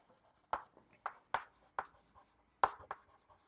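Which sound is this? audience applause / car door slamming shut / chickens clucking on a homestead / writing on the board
writing on the board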